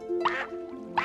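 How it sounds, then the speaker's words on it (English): A cartoon duck in the SpongeBob episode Bubble Stand gives two quick nasal quacks, close and clear, with a sustained tone running underneath. "the duck was actually quacking"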